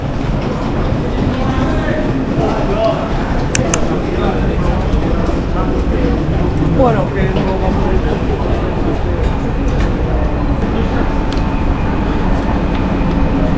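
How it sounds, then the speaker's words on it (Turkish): A train pulls into a station in Uzbekistan, its continuous rumbling and rattling filling the platform with faint squeals and clatter throughout, while voices and people moving around sound amid the steady noise. "Trenimiz geldi ya."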